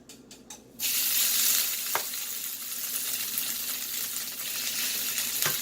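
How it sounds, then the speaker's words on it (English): Loud, continuous sizzling of carnitas pork frying in hot vegetable oil, with a few brief clinks at the start and occasional scrapes in the pan. "And now we are frying the carnitas."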